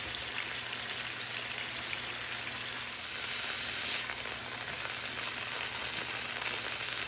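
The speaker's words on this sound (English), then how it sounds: "we're just going to sear this on all sides" Mojo-marinated pork tenderloin sears in a hot pan, giving a steady soft sizzle and crackle that holds evenly throughout, moderately quiet with no voices.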